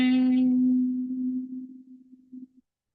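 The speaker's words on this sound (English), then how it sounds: "And then you have to do humming sound." A single voice hums through the closed lips during a breathing exercise, with thumbs over the ears, as one long steady low tone that fades gradually over about two and a half seconds.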